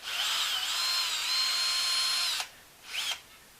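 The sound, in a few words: power screwdriver unscrewing spoke nipple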